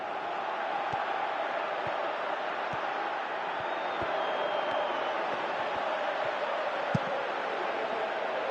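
A football stadium crowd in a video game applauding a good run, a steady broad roar of many distant voices and clapping that holds evenly throughout, with faint low thuds.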